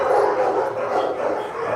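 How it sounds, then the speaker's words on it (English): A group of dogs indoors barks continuously at other dogs outside, a dense overlapping chorus of yips and barks at a steady, fairly close level. "all the dogs are down there barking because they see these dogs outside"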